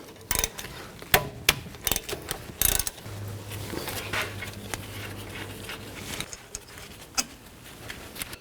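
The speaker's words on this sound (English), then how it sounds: "So take these two bolts out. Use a 14mm socket." A ratchet wrench with a 14mm socket loosening brake caliper bolts on a 2016-2020 Kia Sorento, with bursts of rapid clicking, sharp metallic clanks and a short mechanical whir, close and alone.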